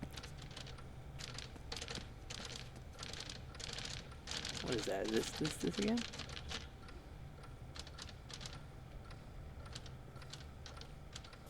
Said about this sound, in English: Sounds a bit like an old-timey typewriter.